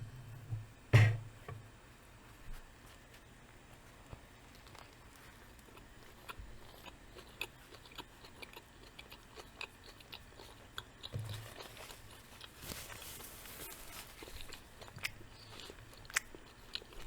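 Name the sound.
chewing a Swiss cheese and mustard sandwich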